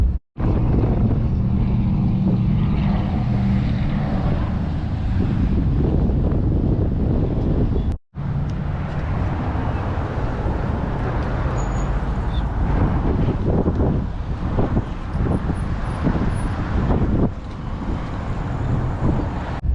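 A 2019 RAM 2500 truck drives along with heavy wind buffeting the microphone, a continuous low rumble of engine and road noise throughout, with a brief dropout partway through.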